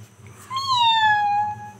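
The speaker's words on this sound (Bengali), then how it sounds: "এমি একটু ম্যাও করো, ম্যাও।" One drawn-out kitten meow, clear and close, sliding downward in pitch over about a second against a low background hum.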